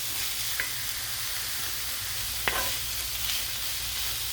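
Onions sizzling and frying in a pan, a steady close hiss with a few soft stirring scrapes and pops, no voices.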